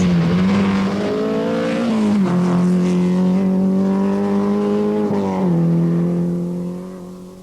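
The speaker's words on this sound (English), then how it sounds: "Bjorn thunders along in the lead of a rally" A Group A rally car races along a dusty forest stage in Brecon Forest, its engine a loud, close, steady drone with brief pitch dips between gears, tapering off slightly at the end.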